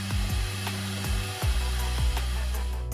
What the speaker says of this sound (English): I start by sanding down the high spots and clean up as I go.